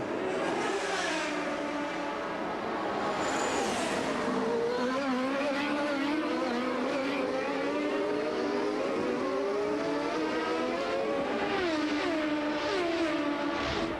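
CART IndyCar race cars at the 1991 Surfers Paradise street race in Australia, several engines screaming and shifting pitch as the cars accelerate and pass, a continuous high whine at broadcast distance.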